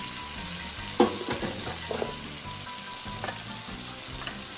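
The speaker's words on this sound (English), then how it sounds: "Let the butter melt" Butter melts in a pan over medium-high heat and gives off a steady, close hiss of sizzling, with a few light clinks and stirring scrapes and no talking.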